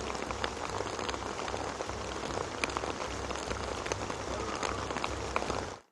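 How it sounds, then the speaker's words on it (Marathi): Steady rain pours in Mumbai, a dense continuous hiss of drops on surfaces that stays loud and even throughout, with faint low rumble beneath and no voices. "मुंबई ठाणे आणि पुण्यामध्ये पावसाला सुरुवात झालेली आहे।"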